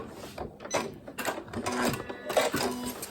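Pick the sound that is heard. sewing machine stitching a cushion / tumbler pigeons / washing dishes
sewing machine stitching a cushion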